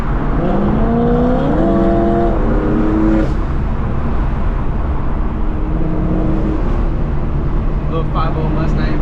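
A BMW F82 M4 with a front-mount intercooler accelerating hard while racing a 5.0 Mustang, its engine note loud and close with rising revs and gear shifts, under voices talking.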